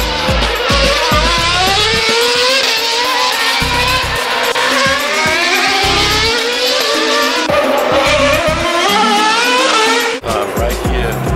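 Race cars roar through a chicane on the Monaco street circuit, engines screaming loud and close in overlapping passes with rising and falling pitch, continuous and dense from start to finish.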